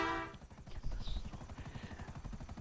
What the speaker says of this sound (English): Oh, get destroyed by a chopper